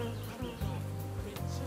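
Bees buzz in a low, steady drone close by, the hum wavering and briefly cutting in and out.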